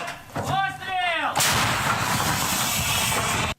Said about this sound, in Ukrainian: Це самохідна артилерійська установка гвоздика.